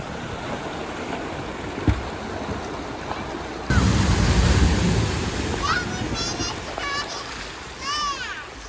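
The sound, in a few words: off-road vehicle driving through a water crossing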